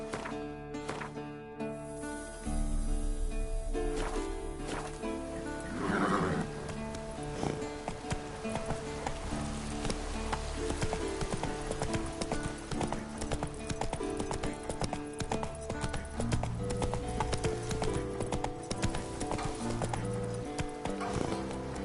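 Roach the horse gallops in The Witcher 3, with rapid rhythmic hoofbeats pounding continuously up close, game music running beneath, and a neigh heard near the start.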